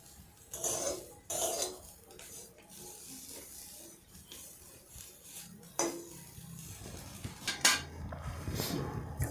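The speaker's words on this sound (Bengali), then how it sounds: "এইভাবে নিম পাতাগুলো যখন সেঁকা হচ্ছে গরম কড়ার ওপর, মাঝে মাঝে এইভাবে ধরে আস্তে করে এইভাবে ঘষুন" Neem leaves roasting in a hot wok while being pressed and rubbed, giving repeated scraping and clinking of metal utensil against the pan in irregular bursts over a faint background crackle.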